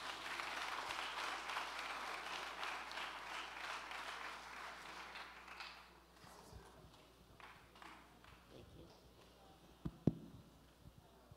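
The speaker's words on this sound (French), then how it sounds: "Mesdames et messieurs, je vous demande d'applaudir Noïde François" Audience applause at a live evening show as a performer is introduced: dense, steady clapping for about six seconds, then thinning into scattered claps and a sharp single bang near the end.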